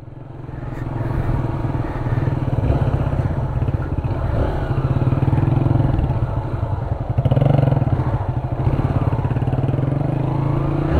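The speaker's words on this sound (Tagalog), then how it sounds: "Parang gumanda yung takbo ng motor ko ah" A motorcycle engine drones steadily and loudly on a rocky, rough road on a ride to Dipaguiden via Dicotcotan Beach in Palanan, Isabela, with continuous rattling and clatter from the bumpy surface and no clear speech.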